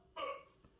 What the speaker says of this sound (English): Uh-oh. The hiccups.